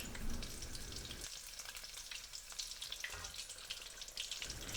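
Oil sizzles and crackles steadily as sesame prawn toast fries in a pan, a constant close hiss with small pops throughout.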